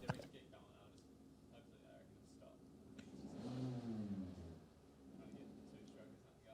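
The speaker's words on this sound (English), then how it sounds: "It's not even a motorbike, it's a lawnmower." A lawnmower engine revving somewhere outside, rising into a loud whining surge in the middle then easing off, heard faintly behind people talking.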